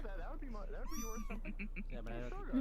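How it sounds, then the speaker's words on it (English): Kitten meowing in the VRChat game, several short, thin meows close up between speaking voices, with one drawn-out cry near the middle. "Even speak with the animals, it just says meow."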